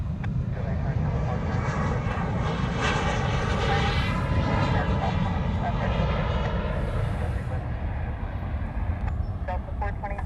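A jet airliner's engines roar steadily and loud at Honolulu airport on runway 8 right as it takes off, a continuous broadband rumble with rising tonal whine, while an air traffic controller's radio voice is faintly heard underneath.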